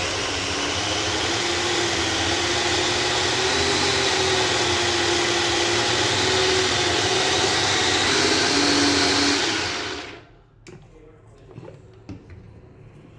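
Mixer grinder grinding ginger garlic paste, a loud steady motor whine running continuously for about ten seconds, then cutting off to quiet with a few small clatters.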